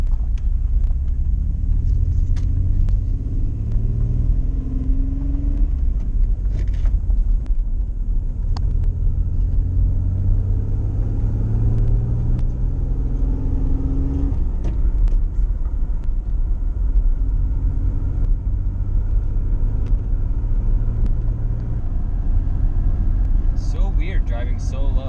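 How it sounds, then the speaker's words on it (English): A 1985 Pontiac Fiero GT drives on the road, heard from inside as a steady low engine rumble with gentle rises and falls in pitch through the whole stretch, with faint clicks near the end. "we decided to take the 1985 Fiero GT for a little ride here"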